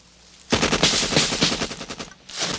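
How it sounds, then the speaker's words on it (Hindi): Rapid automatic gunfire in an action film scene, a loud close burst of repeated shots lasting about two seconds, with no talking over it. "अबे गोलियां क्यों चला रहा है?"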